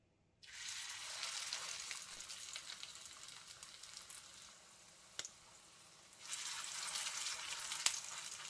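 Two salmon croquettes (patties) fry in a pan with a soft, steady sizzle that dips briefly midway and then swells again; it is quiet and close, and no one speaks.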